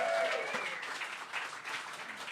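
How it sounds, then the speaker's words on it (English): Audience applause at a Show Up Chicago rally, a steady wash of clapping from a crowd that holds at an even level for a couple of seconds. "a huge round of applause to everybody who participated in helping Susan Crawford win her Supreme Court"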